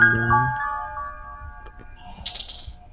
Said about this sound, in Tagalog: na-drop na yung susi